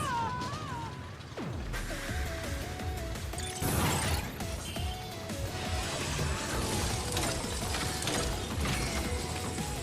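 Rotating gears in the Mega Man 11 video game give off steady mechanical ratcheting and clanking under continuous synthesized game music, with a loud crash near the start and busy electronic effects throughout.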